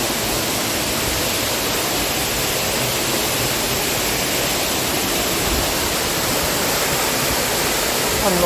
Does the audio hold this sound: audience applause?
no